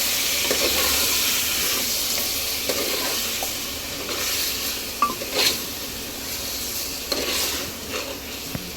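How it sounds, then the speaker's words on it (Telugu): Half a kilo of mutton for a Telangana curry sizzles steadily in a pan while a spoon stirs it, with occasional scrapes and light metallic taps over the continuous frying hiss, close up. "మొత్తం అవన్నీ కలిసిపోయేటట్టు మంచిగా కలుపుకోవాలి"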